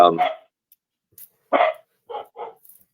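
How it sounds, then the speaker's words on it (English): Dogs barking at home in a few short, sharp bursts spaced across the moment, fairly close and loud against an otherwise quiet room, with a brief voice at the start. "my dogs are storming out right now"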